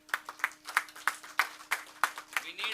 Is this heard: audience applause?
yes